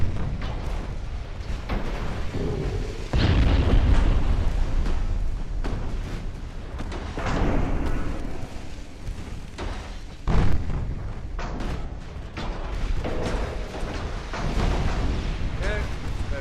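Battleship guns fire broadsides in Ultimate Admiral Dreadnoughts, deep booming blasts and rumbling impacts that recur irregularly across a long stretch, heavy and loud, with someone talking over parts of it.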